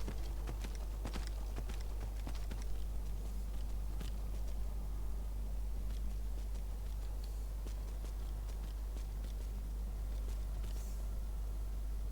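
Horse hooves walking in a video game, irregular clopping footfalls over a steady low hum, moderate and close, continuing for several seconds without speech.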